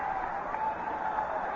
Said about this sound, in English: it's an enthusiastic crowd out here